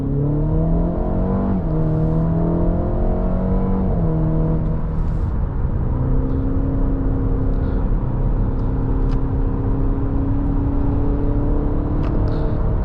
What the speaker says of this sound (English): Let's pop it into sport mode really quick and see how this 2-liter turbo 4 can get up to speed.